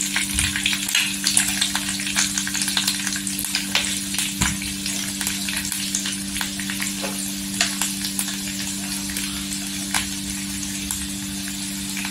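Plenty of garlic fries in hot oil, a dense, continuous sizzle with bursts of crackle and occasional stirring, close and fairly loud over a low steady hum.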